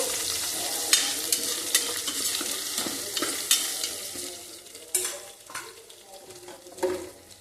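Potatoes being stirred in a frying pan, with a steady sizzle under repeated scraping and knocking of a utensil against the pan, several sharper clinks standing out; no one speaks.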